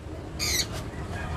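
A bird named Elias, just released inside a giant aviary, lets out one short harsh squawk, fairly close and loud against a steady background hiss, followed by a quieter trailing call.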